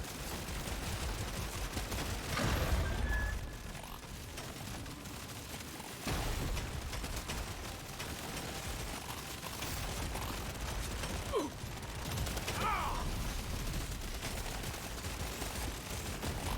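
Turret in the game Deep Rock Survivors blasting buckshot, a steady stream of dense overlapping gunfire bursts and mechanical clatter running throughout at an even, busy level with no voices.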